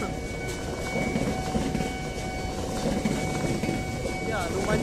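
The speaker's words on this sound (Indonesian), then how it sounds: "Kita tunggu dulu untuk kereta lewat ya" A train heading toward Tanjung Priok in Ancol, Jakarta, rumbles past nearby, a steady heavy roar of rail noise with faint squeals, continuous throughout.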